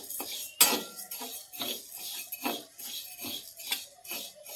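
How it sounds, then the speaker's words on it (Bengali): Dry mung dal being roasted in a hot wok, with a string of close scraping and clinking strokes from a metal spoon against the pan, one sharp knock near the start, and no talk. "মুগ ডালটা শুকনো কড়াইয়ে রোস্ট করে নেব"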